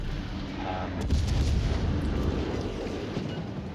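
Ship guns firing in the naval game World of Warships, a deep booming salvo with rumbling low-end tails, heavy and continuous over a few seconds, no talk.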